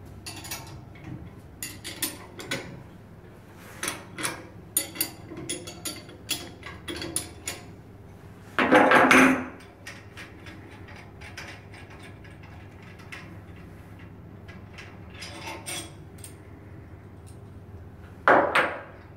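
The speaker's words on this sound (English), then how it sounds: "I removed the two bolts holding the flange together" Bolts being removed from the flange of a DYNA FastFit scraper during a blade changeout, heard as scattered metallic clicks and ratcheting taps with two louder, harsher bursts of wrench work, close by.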